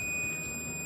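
A multimeter's continuity beep sounds as the probes touch a transformer's primary winding: one steady, high electronic tone held alone for under a second at moderate level.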